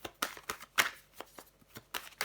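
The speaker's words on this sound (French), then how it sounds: "Je vais recouvrir des cartes." Tarot cards laid down and handled on a table during a reading, a series of soft, close card slaps and brisk shuffling rustles with short pauses, no voices.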